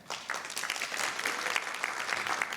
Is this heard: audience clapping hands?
yes